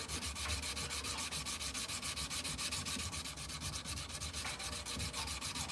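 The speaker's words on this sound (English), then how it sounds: "So right now I'm sanding with 320 grit." Steady, continuous scratchy rubbing of 320-grit sandpaper, a close, even back-and-forth sanding that runs the whole time with no voices.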